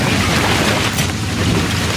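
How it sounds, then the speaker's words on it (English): Steady, dense rain with a low thunderstorm rumble in the video game Shadow of the Tomb Raider, a loud continuous wash filling the whole clip with no voices. "the rain is gonna flood it"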